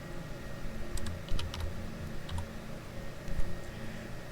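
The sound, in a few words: typing a number on a computer keyboard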